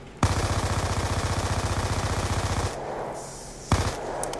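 Sustained, loud automatic fire in the video game Black Ops 2, shooting at a T-Rex, rattles at an even rapid rhythm for over two seconds, then stops, and one more sharp shot follows.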